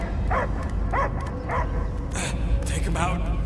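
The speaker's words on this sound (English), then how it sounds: "I hear only barking" A dog-like creature in the Guardians of the Galaxy video game lets out a series of short barks and yips at a steady pace, mixed with game sound effects and a low background rumble.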